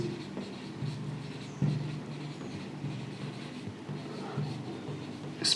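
Chalk or marker scratching across a board during a physics lesson, soft continuous strokes with a few sharper taps, fairly close, over a low steady background hum.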